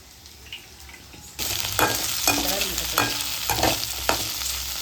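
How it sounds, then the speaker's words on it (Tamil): Onions frying in a pan, a steady sizzle that starts abruptly partway through, with repeated scraping stirs of a spoon against the pan, close and alone. "வெங்காயம் வந்து நம்ம நல்லா வந்து வதக்கியாச்சு"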